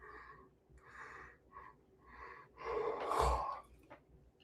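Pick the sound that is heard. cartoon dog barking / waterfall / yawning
yawning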